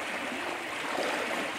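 Strong river current rushing steadily past in the Philippines, a dense continuous hiss of flowing water heard up close with no talk over it.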